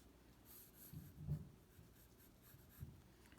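Pencil drawing on paper, with quiet scratchy strokes and short curving lines made in soft, irregular bursts, close and faint.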